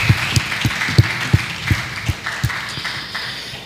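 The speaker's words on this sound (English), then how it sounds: "Let's give her a round of applause, please." An audience applauds in a hall at a community event about miscarriage and infertility in Nevis, with steady clapping and sharp individual claps standing out, gradually fading over several seconds.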